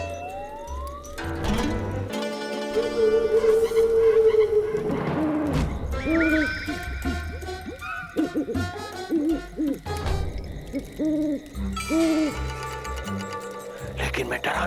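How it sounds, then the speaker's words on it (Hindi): An owl hoots repeatedly at night as part of a Hindi cartoon soundtrack, in short, rounded calls over layered music and effects. "अचानक उल्लू बोलने लगे।"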